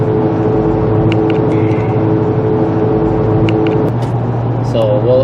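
Steady road noise and engine hum from a Ford Explorer cruising at 55 mph with newly replaced rear wheel bearings, a continuous low drone inside the cabin, fairly quiet, with faint clicks and a brief tonal whine near the end.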